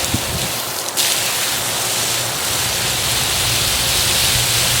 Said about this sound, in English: So I'll water this one more time and consider it done.